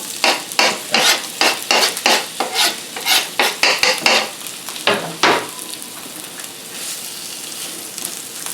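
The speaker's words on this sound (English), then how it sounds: "Let's go ahead and add our sliced onions." Sliced onions dropped into hot olive oil in a pan, a burst of loud rhythmic stirring and scraping strokes over sizzling for about five seconds, then settling into a quieter steady sizzle.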